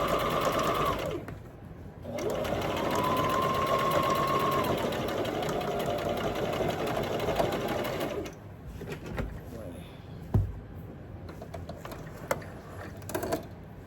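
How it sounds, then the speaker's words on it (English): A sewing machine stitches a zipper bag in steady, close, mechanical bursts, with a short pause between runs. The machine goes quiet after about eight seconds, leaving scattered handling clicks and light taps. "sewing down my blue lines, then I back stitch back and forth from the beginning to the end"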